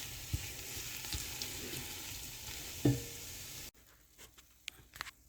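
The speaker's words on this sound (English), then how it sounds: "We're just going to cook this until the oil separates from the paste here." Tomato paste cooking in oil in a pan for spaghetti sauce, giving a steady soft sizzle and crackle with an occasional pop, then dropping to quieter scattered bubbling near the end.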